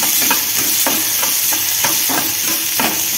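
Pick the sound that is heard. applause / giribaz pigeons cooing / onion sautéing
onion sautéing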